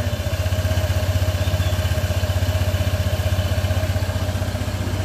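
A Honda ADV 160 scooter idles just after a cold start, its engine knocking in a fast, even, close and loud pulsing rhythm over a mechanical clatter, with no voices.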